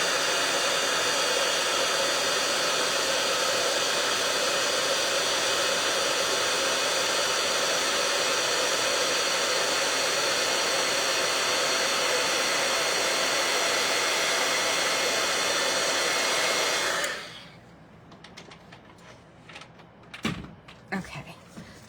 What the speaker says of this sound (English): And now we're going to heat emboss this.